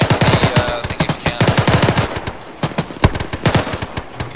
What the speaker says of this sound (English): Oh, we're under fire!